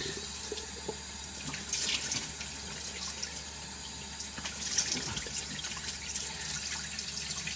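Water streams steadily from a sink tap, a continuous close splashing hiss that swells slightly in places, with no talking over it.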